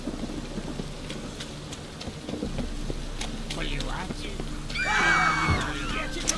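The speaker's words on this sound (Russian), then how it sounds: "Так, как сюда не придешь, постоянно дожди идут, а? Отвратительная погода." Steady rain in The Witcher 3 makes a continuous hiss throughout, with a horse whinny and rustling activity rising near the end.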